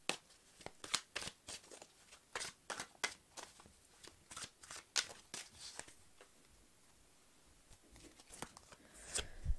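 Tarot cards being shuffled and drawn, a rapid run of close, crisp card snaps and riffles, slowing into softer handling and a final rustle, with no talking.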